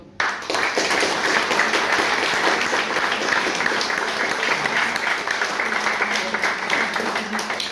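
Sustained applause from a large audience at a French billiards championship quarter-final, steady dense clapping that starts abruptly and carries on evenly throughout.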